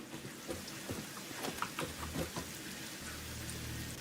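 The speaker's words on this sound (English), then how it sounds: "And yes, it's actually raining in game." Rain falls steadily in a video game, a soft, continuous patter with scattered drop hits and a low rumbling undertone, faint and with no one speaking.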